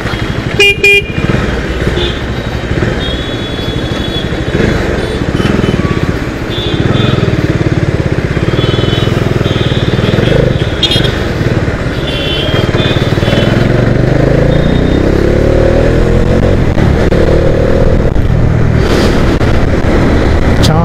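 A motorbike ride through Nashik toward Pimpalgaon, the engine a steady broadband roar with wind rush throughout, punctuated by repeated horn toots from passing traffic on the road.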